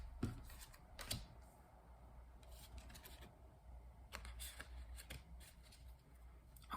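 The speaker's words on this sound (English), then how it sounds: "Actually, no, we're going to shuffle." Tarot cards shuffled by hand in a series of quick riffling bursts, fairly close and quiet, separated by short pauses over a low steady background hum.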